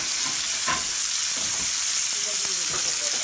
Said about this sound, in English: So we're gonna stir the bacon for the bacon bits.